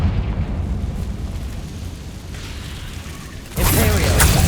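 In Hogwarts Legacy, a Confringo blasting curse lands with a deep rumbling blast, then a second louder burst erupts near the end, with heavy low booming throughout.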